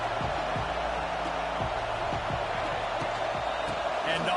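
Stadium crowd in the College Football 26 video game, a steady wash of crowd noise dotted with dull thumps, with a voice talking over it throughout.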